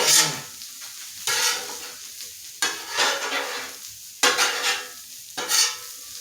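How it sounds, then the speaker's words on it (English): Beef fries in a hot pan, giving a bright crackling sizzle that comes in repeated bursts as the meat is stirred and scraped about, close up and with no talking. "the beef is starting to heat up in there"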